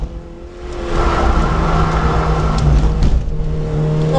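A race car lapping the Taupo circuit during a Superlap 2021 round, its engine droning steadily and close, rising and holding at high revs throughout.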